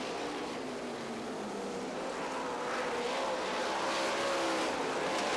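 Race cars lap the track at the 1994 Knoxville Nationals, their engines blending into a continuous far-off roar whose pitch slowly climbs as the cars come around, with no voices over it.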